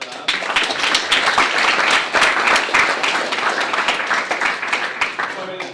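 An audience applauds the presenters at a hackathon live demo session, sustained, fairly loud clapping from many hands, even and continuous for several seconds with a few louder individual claps.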